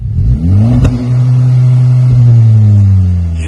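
Engine of a Honda Civic Type R FK2 while driving, a loud steady drone that rises after a brief shift and then holds, heard from inside the car with no talking.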